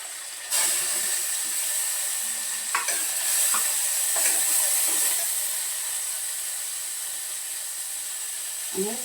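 Garlic and curry leaves hit hot oil with turmeric and cumin, giving a loud, steady sizzle with a few scraping stirs of a spoon, heard up close without talk.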